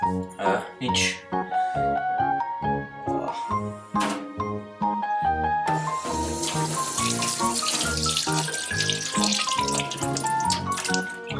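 Water runs from a tap fitted with a nearly clogged, limescale-filled attachment, a steady hiss that swells louder midway, with tonal, music-like sounds running through it.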